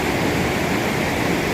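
A river rushes near a waterfall, a steady, loud, broadband roar of water with no break or variation.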